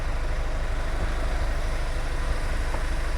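A car engine idles steadily with a low, continuous rumble and no other sounds, running during a final check after a bulb failure warning light repair.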